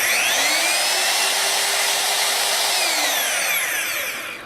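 A DEWALT DWE1622K two-speed magnetic drill press motor runs steadily and loudly up close, a sustained high whine with no talking over it, easing slightly toward the end.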